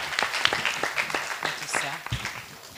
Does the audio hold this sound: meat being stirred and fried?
no